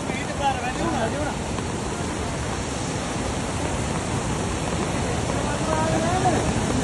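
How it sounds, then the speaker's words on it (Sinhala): A village stream rushes in a dense, steady roar that swells slightly, with broadband water noise filling the whole clip up close. "වතුර පාර වැඩි වෙනවා එකපාරට මචං වතුර පාර වැඩි වෙනවා"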